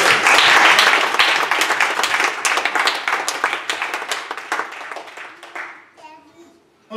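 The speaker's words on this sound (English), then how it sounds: "Come on, clap your hands for me." A congregation claps hands at a New Year's Eve watch night church service on a naval air base, first a loud dense burst, then thinning to separate claps that fade out, with a voice briefly audible.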